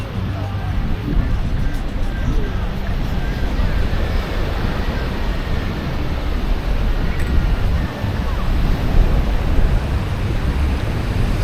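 Steady roar of ocean surf and wind blowing across the microphone at Praia da Barra beach in Florianópolis, a continuous dense rush with no distinct breaks under an overcast sky.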